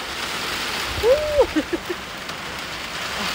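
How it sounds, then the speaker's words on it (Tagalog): Steady heavy, wind-driven rain hisses loudly throughout, a dense wash of noise, while a voice briefly speaks over it partway through. "Oh, lakas ng hangin eh. Lakas ng ulan."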